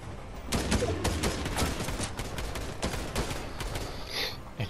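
Gunfire rings out in Fortnite in a rapid burst of close, sharp shots, some evenly paced and some overlapping, that carries on across the whole stretch with a couple of pauses.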